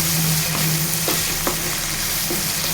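Telangana-style tomato curry simmers and sizzles in a pan over a medium flame, a dense steady hiss with a low hum and a few faint stirring clicks, close and loud, no speech.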